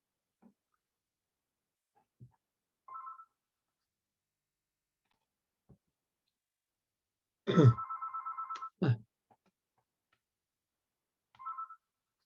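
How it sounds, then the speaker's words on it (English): A telephone ringing indoors in sparse short electronic trills separated by long silences, one longer ring burst near the middle with a few faint clicks around it. "this phone is ringing"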